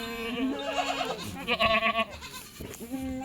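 Goat bleating close by on a goat farm in the morning, several wavering cries in quick succession with brief gaps, loud and clear against a quiet background.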